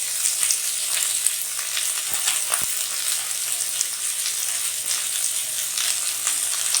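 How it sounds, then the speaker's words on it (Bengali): Okra (ladies finger) fries in hot oil with turmeric, giving a steady, close, bright sizzle that runs the whole time without talk, broken by a few sharper spits and crackles. "তেল গরম হয়ে গেছে, এবারে আমি এর ভেতরে ঢেঁড়সটা দিয়ে দিচ্ছি।"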